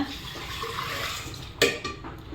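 Soaking water is poured into a cooking pot of green gram while making lunch, a soft continuous pour and trickle that ends with a brief splash near the end, with no talking.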